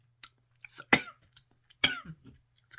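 Two sharp coughs spaced about a second apart, close and moderately loud, with a few faint throat sounds around them.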